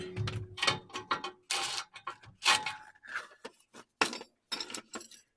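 A 14mm socket wrench breaks loose the bolts on a Chevrolet S10 catalytic converter, giving sharp metallic clinks and ratcheting clicks in short irregular bursts, close up with pauses between them.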